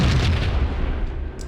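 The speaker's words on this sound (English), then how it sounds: "Then a grenade." Grenade blast in the 2001 PC game Max Payne, heard as a deep low boom with a rumbling tail that fades over about a second, with no talk.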